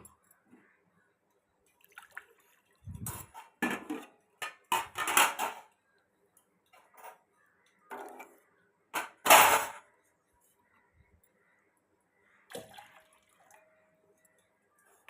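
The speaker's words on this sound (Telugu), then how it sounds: "3 కప్పులు వాటర్ పోసేసుకోవాలి." Three cups of water poured onto sago in a kitchen vessel, arriving as several separate splashing bursts with short quiet gaps between them.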